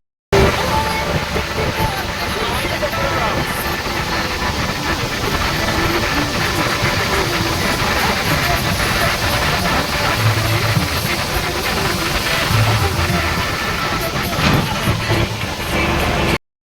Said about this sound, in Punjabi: ਫੇਰ ਕਰੇ ਟਰੈਕਟਰ ਸਟਾਰਟ